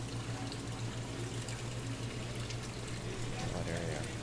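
Water rushes constantly from a waterfall in a fish store aquarium tank, loud and close, while a person talks over it.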